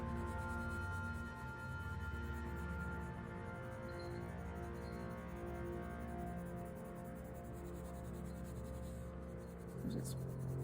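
A pencil shades and blends lips on paper in a soft, steady rubbing scratch, faint and close, running continuously with no talk over it.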